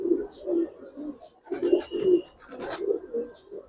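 High flyer racer pigeons cooing close by, a series of soft, low, throaty coos in uneven bursts with brief pauses, plus faint rustling and slight background noise.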